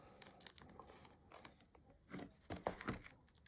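A length of craft tape being cut for a tunnel album, with soft crinkling, tearing and snipping sounds, faint and close, building to a few sharper cuts near the end.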